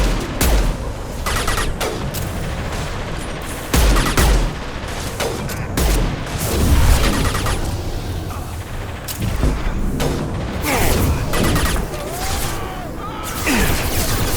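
Rifle gunfire in the video game Mass Effect 2, repeated sharp bursts of shots and booms through a noisy firefight, loud and close with short gaps between volleys.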